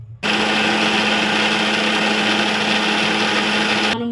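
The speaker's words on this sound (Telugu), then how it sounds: "వేసుకొని మళ్ళీ ఒకసారి దీన్ని మిక్సీ పట్టుకుందాం." A mixer grinder runs steadily, loud and close, blending onion, green chilli, ginger, garlic and cumin into a paste, with an abrupt start and stop around a continuous high whirring motor drone.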